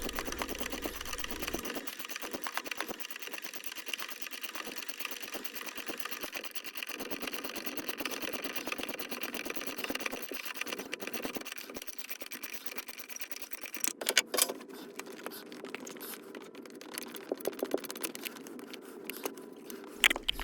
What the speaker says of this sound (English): Using our ratchet and the puller, we slowly remove the impeller.